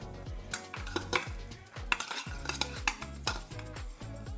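Fish pieces frying lightly in a pan for a Bengali fish paturi, with repeated clanks and scrapes of a utensil against the pan over a soft sizzle, close and busy, no speech.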